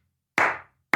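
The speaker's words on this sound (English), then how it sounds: "a thunderous but very slow and melodic clapping from the audience, like this" A large audience clapping slowly and heavily in unison, each loud, booming clap ringing out alone and decaying before the next one lands.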